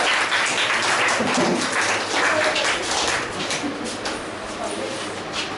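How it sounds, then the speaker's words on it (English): A room of trainees at an in-house training session gives a round of applause, brisk clapping that is loud at first and eases off slightly toward the end, with murmured voices underneath. "Everyone give a round of applause."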